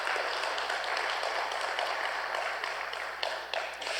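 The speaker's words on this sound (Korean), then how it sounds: "우리 하나님과 이분에게 감사의 박수" A congregation in a church gives a round of applause of thanks for one of its members, a dense, even patter of many hands clapping at a moderate distance that carries on throughout.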